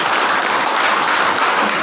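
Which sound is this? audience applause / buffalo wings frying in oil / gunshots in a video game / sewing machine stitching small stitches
audience applause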